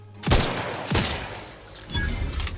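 Enemy gunfire in The Outer Worlds 2 cracks out in three loud bursts about a second apart, each a sharp blast fading into a rumbling tail, with no talk.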